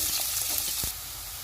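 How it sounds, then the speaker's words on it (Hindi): Onions frying in hot oil for a chicken fajita pizza, a brief, steady sizzle with a soft knock before the hiss drops lower, no talk. "ऑयल गर्म हो गया, इसमें प्याज डाल देंगे और इनको हम 2 मिनट तक फ्राई करेंगे।"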